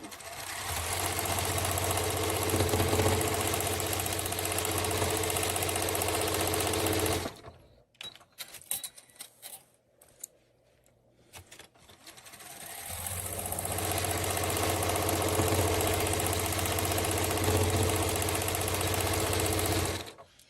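A sewing machine stitches quilting lines on fabric with a steady loud mechanical whir. It stops for a few seconds, leaving small clicks and handling sounds, then starts again at the same pace.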